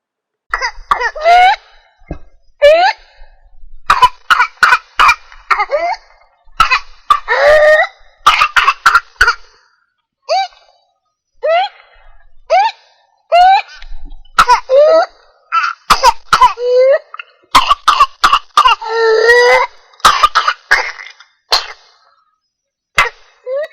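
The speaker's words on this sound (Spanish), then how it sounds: "A continuación mostraré un ejemplo de cómo suena este tipo de tos." Repeated bursts of harsh whooping-cough-like coughing, in clusters with short gaps between, close and loud, some fits ending in a wheezy intake of breath.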